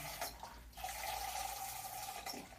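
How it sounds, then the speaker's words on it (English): Water runs steadily into a rusty tin can for a few seconds, a continuous splashing and trickling pour close by with a faint rising tone as it fills. "I'm going to fill it up with some water"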